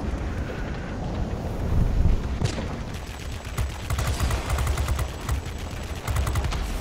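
Rapid, sustained gunfire from the guns of an F7U aircraft in a naval combat video game, a dense rattling stream of shots running throughout under steady wind-like rushing noise, with no talk.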